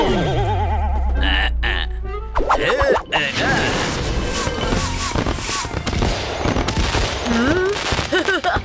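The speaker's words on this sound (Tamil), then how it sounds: "புது ஸ்டைல்ல நீங்க ராக்கெட் விட்டீங்க" A cartoon firework rocket launches with a rising whoosh and spinning whistles, followed by crackling bangs and a busy mix of effects, with animated voices and music running underneath.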